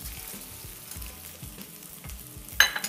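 Fresh red chilies, dry chilies and Sichuan flower peppercorns frying in oil for paleo kung pao chicken, giving a low crackling sizzle with soft rhythmic stirring taps and a sharper burst of sizzle at the end.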